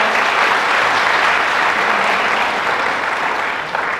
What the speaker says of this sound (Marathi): पुन्हा एकदा आपल्या कॉलेजसाठी जोरदार टाळ्या होऊन जाऊया